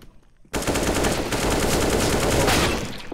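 Sustained automatic gunfire from a CS:GO match, rapid shots blending into a dense, loud, continuous burst after a brief quiet start.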